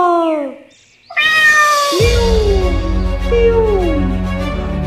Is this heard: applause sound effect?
no